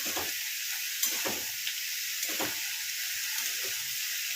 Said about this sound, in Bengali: দিয়ে এটা নাড়িয়ে দিয়ে চাপা দিয়ে দেবে